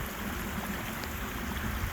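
Water from a winter seep runs into a culvert, a steady low rushing and gurgling flow, fairly quiet and continuous with no voices.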